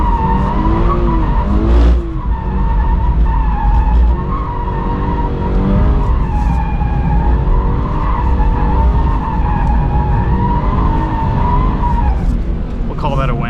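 A 2022 Subaru BRZ drifting, its engine roaring loud and steady at high revs while tires squeal and skid continuously for the whole stretch, with voices faintly underneath.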